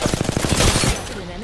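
Rapid automatic gunfire bursts from the Apex Legends shooter game, a fast regular string of shots that runs into a denser blast before trailing off, loud and close.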